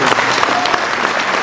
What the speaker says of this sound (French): Voilà pour Jacqueline, c'était son CV, je crois qu'on peut l'applaudir.